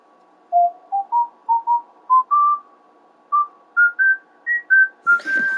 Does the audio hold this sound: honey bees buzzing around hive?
no